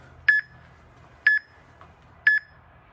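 Tabata workout timer app giving three short, evenly spaced electronic beeps about a second apart, crisp and close with a faint extra blip between the second and third.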